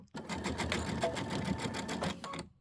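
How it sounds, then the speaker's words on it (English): An embroidery sewing machine stitching a tile runs in a fast, steady mechanical rattle of rapid needle strokes for about two seconds, then stops abruptly, heard on its own without speech. "I'm sewing just to the left of that."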